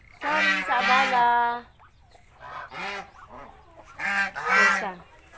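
Farm ducks give several loud, nasal honking quacks in short bursts with pauses between, close by, with a person briefly talking.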